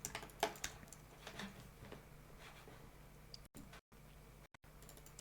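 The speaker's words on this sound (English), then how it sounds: "Someone was typing." Quick keystrokes on a computer keyboard tap in a faint, scattered burst near the start, then thin out into quiet room noise with a few brief dropouts.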